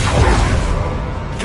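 A whooshing disarming-spell effect from a wizard video game sweeps through a dense, loud wash of game noise, broadband and continuous for about a second and a half.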